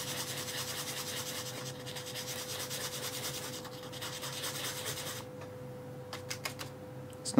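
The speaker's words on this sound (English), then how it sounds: "just grinding, or in this case sanding off some" Sandpaper rubbing graphite powder off a pencil, a soft, fast repetitive scratching close up that runs steadily, then thins into a few sparse scrapes and taps near the end.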